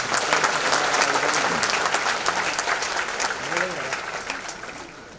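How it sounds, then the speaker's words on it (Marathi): An audience applauds at an awards ceremony in Mumbai, with dense, sustained clapping from a large crowd that gradually tapers, and a voice speaks faintly over it. "उसके लिए एक जोरदार ताली होता है"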